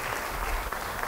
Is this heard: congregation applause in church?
yes